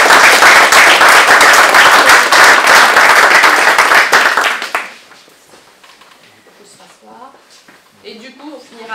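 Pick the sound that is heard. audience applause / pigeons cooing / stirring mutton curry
audience applause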